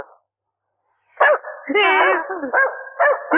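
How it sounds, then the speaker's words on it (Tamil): After a moment of silence, a dog gives a short run of sharp barks and yelps, close and loud, in quick irregular bursts. "என்னென்ன நாய் குலைக்குது"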